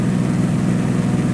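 Continental IO520 piston engine of a light airplane in flight over Alaska, a steady loud low drone with constant propeller hum and no breaks, heard alone.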